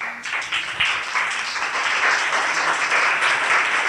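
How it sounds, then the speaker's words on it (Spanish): A church congregation applauds during a Spanish-language worship service, producing dense, steady clapping that fills the room at full volume for the whole stretch, without pause or talk. "Le damos un aplauso al Señor."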